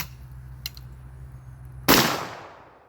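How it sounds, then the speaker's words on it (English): A shotgun fires a single loud, close blast near the end, followed by a long fading crack and echo outdoors, after a quiet stretch with a faint click. "shotgun is the hardest kicking gun I have."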